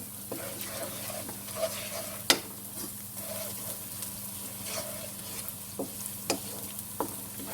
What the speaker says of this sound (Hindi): अब इस मसालों को थोड़ा भूनेंगे।